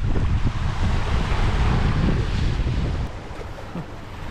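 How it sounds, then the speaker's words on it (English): Wind gusts buffet the microphone on the shore of Keweenaw Bay, a steady loud rush mixed with breaking surf, easing slightly toward the end, with no talking. "The wind's out of the north."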